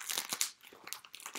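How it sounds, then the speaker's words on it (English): Plastic shipping bag for a beauty subscription crinkles and crunches up close in several loud bursts separated by brief pauses, with no talking. "So it did not come in a box. It came in a plastic bag."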